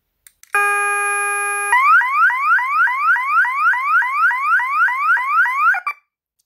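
A KERUI wireless security alarm system sounds its siren: a loud steady electronic tone gives way to a rapid, repeating rising whoop, cycling about a dozen times over several seconds before abruptly stopping, with no voices.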